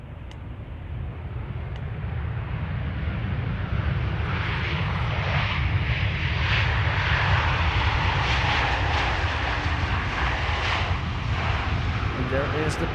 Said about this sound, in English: this is KLM flight 1030, arriving from Chester